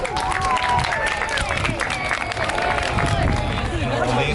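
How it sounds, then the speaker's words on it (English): A crowd at a fire department open house claps for East County firefighters, a scattered, moderately loud patter mixed with background chatter and murmuring voices. "How about a big round of applause for East County firefighters?"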